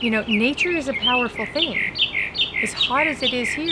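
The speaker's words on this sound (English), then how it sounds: "You hear that hummingbird?" Small hummingbird in a hot desert landscape giving repeated sharp squeaky chirps and squawks, close and fairly loud, mixed with a person talking over the calls.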